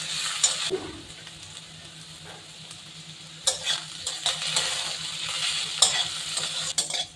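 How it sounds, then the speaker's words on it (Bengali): Potatoes and onions frying in oil in a home kitchen while being stirred, with a steady soft sizzle and intermittent scraping stirs close by. "আলু পেঁয়াজ বালা করে বাজি দিচ্ছি।"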